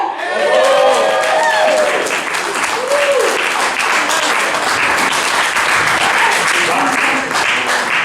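A comedy competition audience fills the room with loud, sustained applause for the first-place winner, and whoops and shouted voices rise through the dense clapping.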